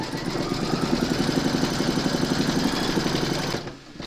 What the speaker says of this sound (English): Pop your hoop into your machine and stitch round number 5 to secure it.